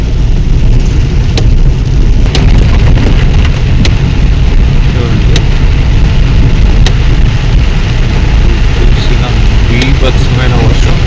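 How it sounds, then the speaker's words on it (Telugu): Heavy rain pounds a car driving along a rough road, a loud, dense and continuous roar close at hand. Sharp knocks and jolts from the bumpy ride punctuate it. "బీభత్సమైన వర్షం."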